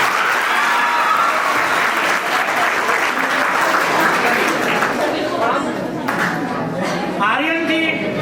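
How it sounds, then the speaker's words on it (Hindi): Loud, sustained applause fills a farewell ceremony at a coaching center in Patna, thinning slightly toward the end as voices and chatter rise through it. "इनके लिए बहुत जोरदार तालियां।"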